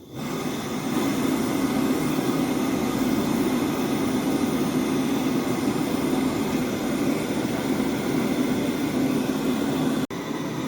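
A steady, loud roaring hiss of a Fire Maple FMS-126 gas camping stove burner at full flame under a large pot of water, continuous and even, cutting off abruptly near the end.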